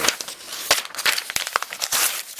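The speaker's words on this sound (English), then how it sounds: "so it wasn't cutting, it was just pulling the paper" Blade-Tech U.L.U. folding knife dragging through paper: a quick run of sharp crinkling, tearing crackles in uneven bursts, close and fairly loud, without speech.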